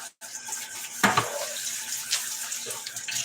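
Tap water runs into a kitchen sink with leftover rice in it, a steady splashing wash with a brief louder gush near the middle.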